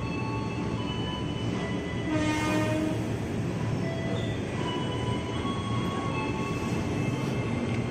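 Commuter electric train pulling away from Cawang station, with a steady loud rumble of wheels on rail, sustained metallic squeal and tonal motor whine rising as it accelerates, heard close from inside the carriage.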